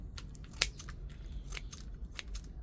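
Scissors snip through creeping thyme stems, cutting them at the base while propagating cuttings: a few quiet, crisp clicks spaced irregularly over low background hum.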